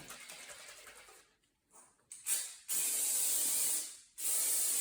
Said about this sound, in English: So I'm going to use a little bit of spray mousse.